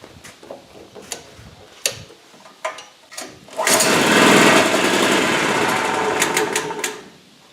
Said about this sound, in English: Right now it just kind of starts up and then just dies out right away.